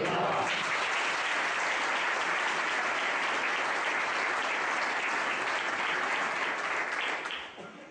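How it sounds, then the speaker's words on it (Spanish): Sustained, loud applause from an audience at a grape harvest festival presentation of the festival queens, a thick, even clatter of many hands that fades out near the end. "Un merecido aplauso también para mi tocaya Patricia"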